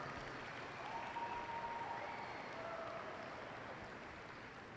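Sustained applause from a crowd at a junior market lamb championship drive at a livestock show, steady clapping that lasts the whole stretch at moderate distance.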